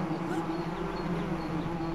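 Bees in a cave in the ARK video game give a steady, droning buzz with a low humming tone that holds evenly throughout, no voices over it.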